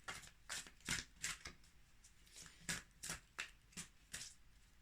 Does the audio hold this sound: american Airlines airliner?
no